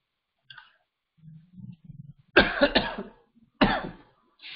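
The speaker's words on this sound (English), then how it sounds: "So please excuse my cough. Suddenly some dry cough has started." Two sharp, dry coughs break out close by, each a short harsh burst, following a few faint low throat sounds and a small click.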